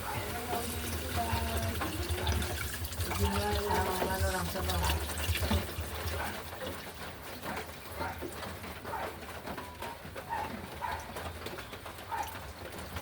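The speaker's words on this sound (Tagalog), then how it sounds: "Lagyan na natin ang tubig." Water is poured into a cooking pot for Filipino tinola chicken soup, a steady rush of pouring that stays on throughout with faint background sounds.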